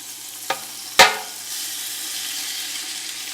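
Short ribs are dropped into a big pot and begin to sizzle, with two sharp clanks of food or tools hitting the hot metal, then a steady, moderate frying hiss that continues without talking.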